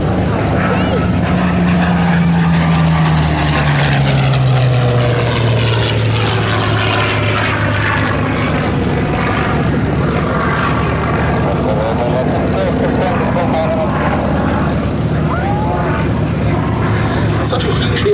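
A Curtiss P-40C Warhawk propeller fighter flying at the Duxford Battle of Britain Airshow, its engine drone droning loudly as it passes, pitch falling as it moves away, with a commentator talking over it throughout.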